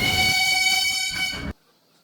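The steam-powered Ooty toy train on the Mettupalayam to Ooty mountain railway sounds a single loud, sustained horn blast. The blast holds for about a second and a half, then cuts off abruptly into near silence.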